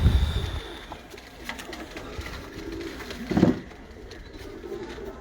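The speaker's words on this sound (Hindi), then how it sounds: "ये जी माशाल्लाह जनाब सैफ खान साहब के मेन ब्रीडर अबाबिल कबूतर हैं" Ababil breeder pigeons coo nearby, with soft, low murmuring calls and a louder burst midway, over faint rustling and background noise.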